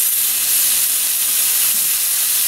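Beef stew meat sears in a hot pan as the pieces are flipped, a loud, dense and continuous sizzle close up, with no talking.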